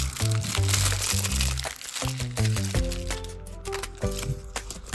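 A toy surprise box being opened, its plastic wrapper crinkling and crunching loudly and close in irregular bursts, with short cracks and tearing rustles and no talk over it.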